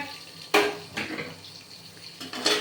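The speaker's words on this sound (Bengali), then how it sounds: "তার জন্য আমি একটু একটু সামান্য জল দিয়ে দিলাম" Small splashes of water poured bit by bit into a mixer jar of ingredients for a paste, a few short faint pours separated by quiet gaps.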